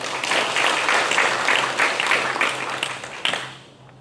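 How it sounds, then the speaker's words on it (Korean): Audience applause at an academic conference presentation on Korean Confucian academies, a dense, close clapping that holds steady for several seconds and then tapers off near the end. "많은 박수 부탁드리겠습니다."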